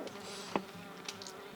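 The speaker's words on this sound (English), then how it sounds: "Get that bee." A bee buzzes inside a teardrop trailer cabin, a low, steady drone close by, with a couple of soft knocks and faint clicks over it.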